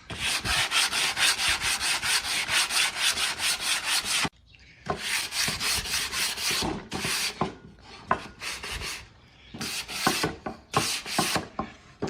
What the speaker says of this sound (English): I'm gonna just use my sanding block here with some 120 grit sandpaper